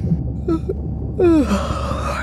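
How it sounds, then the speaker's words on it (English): A short breathy sound, then a drawn-out yawn with a voice sliding downward, from the video game Beyond Blue, heard alone over a low background hum. "Was that a yawn?"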